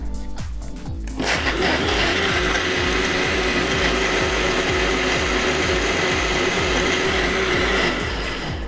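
Blender running for about 30 seconds to blend a tropical fruit smoothie with water, starting after a brief pause into a loud, steady whirring churn that stays constant to the end.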